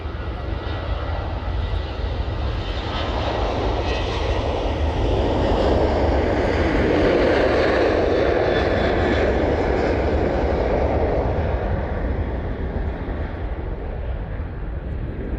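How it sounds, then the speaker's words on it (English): An airliner rolls down the runway at East Midlands Airport on an evening departure, its engines a loud, steady roar that swells slightly toward the middle and holds continuously throughout. "the service to Barcelona finally making its way down the runway this evening"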